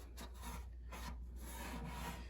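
Rhythmic scraping of sandpaper rubbed by hand over the rusty metal trunk lid of a Mazda RX-8, several rasping back-and-forth strokes, quiet and close.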